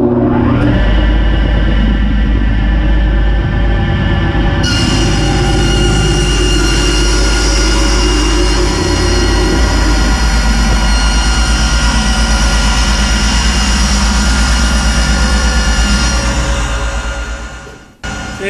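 A saw cuts through a homemade cross cut sled for cabinet building, its blade set about an inch high to break through the top. The motor roars loud and steady at close range, then spins down at the end.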